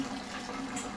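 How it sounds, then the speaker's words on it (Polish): Fermented raspberry mash poured into a pot, a continuous soft gushing liquid flow, close and fairly quiet, lasting about a second. "Nalewam tyle zacieru."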